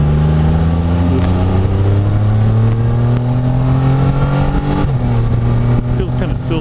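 A Can-Am Spyder F3-S three-wheeled motorcycle's engine drones steadily while riding, with pitch rising and falling through gear changes, loud and close. A voice talks over it.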